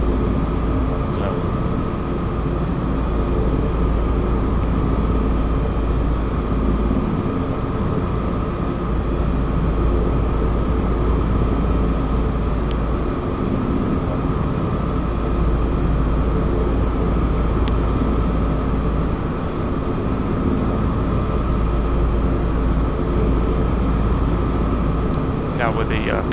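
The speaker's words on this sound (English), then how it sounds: "I believe that the intention is that this helicopter is supposed to replace the H3, the Sea King." A Sikorsky S-92 helicopter flying over the Dolomiti area in the X-Plane 11 flight simulator: a loud, steady engine and rotor drone with a deep low rumble, unchanging across the whole stretch.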